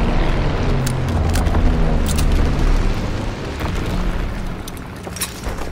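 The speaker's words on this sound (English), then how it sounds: "Incoming enemy artillery! Get to cover!" Incoming enemy artillery in a military video game, heavy booming explosions rumbling continuously and loudly, with crackling debris bursts layered over a deep, sustained low roar.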